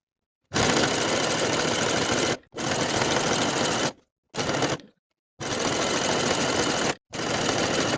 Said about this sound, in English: Sew your cuffs in place at 5/8 of an inch.